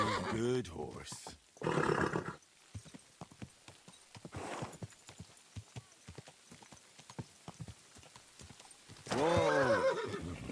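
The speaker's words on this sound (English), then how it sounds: "Easy, good horse." A horse in the video game Kingdom Come: Deliverance II neighs loudly, then hooves clip-clop in a steady rhythm at moderate level, and a second whinny rises near the end. Someone talks over part of it.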